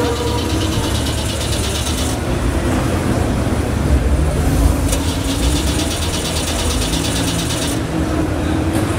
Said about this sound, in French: j'en entends une qui a du mal à démarrer, c'est la Volga